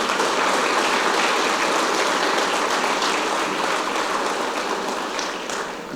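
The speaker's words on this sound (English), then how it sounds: "Round of applause for them." Sustained applause for first responders fills a hall at a city State of the City address, a dense, steady crowd clapping for six seconds that fades slightly at the end.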